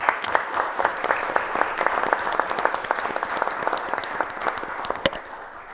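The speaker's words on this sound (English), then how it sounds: "One more round of applause, please." A crowd applauds steadily at a city council meeting, dense clapping that holds for several seconds before tapering off.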